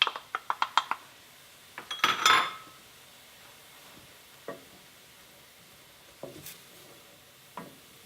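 Chopped white mushrooms go into a hot pan: quick metallic clinks of a utensil, then a short burst of sizzling, followed by quiet gaps broken by a few soft taps.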